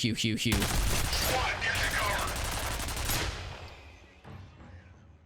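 A mounted turret machine gun in F.E.A.R. fires in rapid, loud, continuous bursts for about three seconds, then trails off into quieter echoing combat noise.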